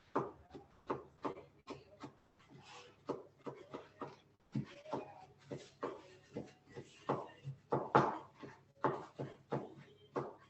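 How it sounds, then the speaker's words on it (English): A knife chops food on a cutting board during meal prep, making steady repeated woody strokes at an even pace, close and clear, with no talking. "Then, coarse chop,"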